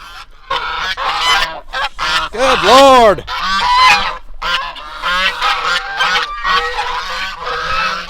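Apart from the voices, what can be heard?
geese honking on a farm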